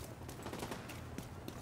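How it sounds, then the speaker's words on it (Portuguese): Gunfire in The Division 2 on Xbox One, a burst of rapid, closely spaced shots at steady loudness, with faint voices behind. "Deu um tiro."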